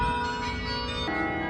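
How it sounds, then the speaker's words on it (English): Church bells ring at a tall church at Yale University in Connecticut, a dense, sustained metallic peal with layered ringing tones and a fresh strike near the end, with no talk over it. "This is the church bells, which is standing so tall"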